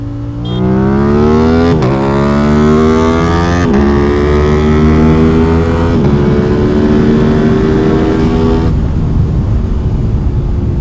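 A Yamaha R7 and an Aprilia RS660 motorcycle accelerate hard in first and second gear, loud and close, engine pitch climbing steadily through several rising sweeps with brief dips at shifts, no talking.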